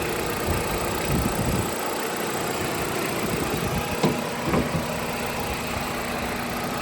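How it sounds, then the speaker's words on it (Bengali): A used 2018 Hyundai Accent's small engine idles with a steady, even hum and faint mechanical ticking, heard close up with no talking. "এই দেখেন ইঞ্জিনটা দেখেন ছোট ইঞ্জিন"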